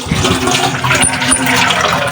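Water is poured into a cooking pot of beef and dried-fish curry, a loud steady rushing splash that fills the whole moment, close by and without talk.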